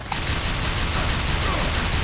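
Rapid gunfire in the video game Unreal Tournament III rattles in a dense, continuous burst, loud and sustained throughout, with no voices.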